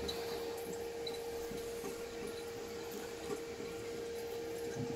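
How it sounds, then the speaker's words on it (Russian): A slightly leaking toilet cistern in a three-star hotel room at night makes a faint, steady hiss of trickling water with a constant low hum beneath, unbroken for several seconds. "У нас ночь, и немножечко подтекает бачок"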